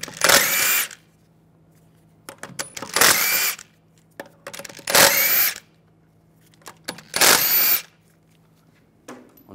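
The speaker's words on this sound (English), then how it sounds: "We're going to remove the wheel using a 17 millimeter socket." Power impact tool spinning lug bolts off a 2006-2009 Mercedes-Benz E350 wheel with a 17 mm socket: four loud, close bursts of whirring about two seconds apart, with quiet clinks between them.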